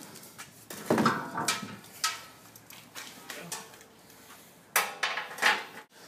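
Metal tow hooks come out of a Jeep's metal bumper, making scattered clanks and rattles of metal parts and tools, close and moderately loud, with pauses between the knocks.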